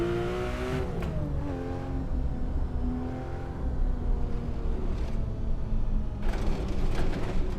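Engine of a 4-liter all-wheel-drive Singer on semi-slick tires in a racing video game, revving and rising through gears with a steady loud drone and no talking.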